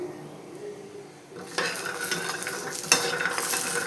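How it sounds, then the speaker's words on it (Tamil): Jackfruit seeds dry-roasting in an oil-free pan over medium flame, quiet at first, then a spoon scrapes and stirs with clattering contact and a light sizzle, one sharp knock near the end. "இதில் அந்த பலாக்கொட்டையை போட்டு நம்ம ஒரு ஃபைவ் மினிட்ஸ்க்கு அப்படியே வந்து வதக்கி விட போகிறோம்"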